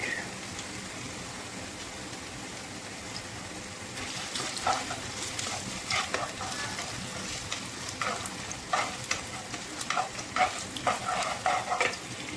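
Garlic frying in a pan for chicken wings adobo, a soft constant sizzle that grows busier partway through, with scattered crackles and stirring scrapes close by.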